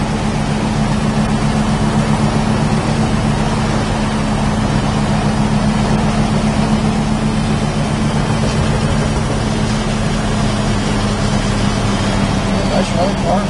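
A 1966 Chevrolet Chevelle Super Sport with its 396 engine runs steadily at idle, a loud, even low rumble that holds throughout, heard up close.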